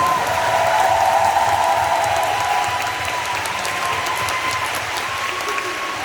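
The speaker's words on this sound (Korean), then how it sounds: "우리 장군장님 큰 박수 한번 부탁드립니다" Steady applause from a concert audience at a tenth-anniversary concert, a sustained wash of many hands clapping at a constant loud level, with a voice briefly heard over it.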